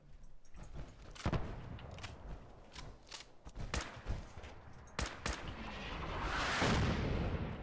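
Artillery fire in the video game Fallout 4: a string of sharp, heavy blasts landing at uneven intervals, some near and loud, followed by a swelling roar of a large explosion near the end.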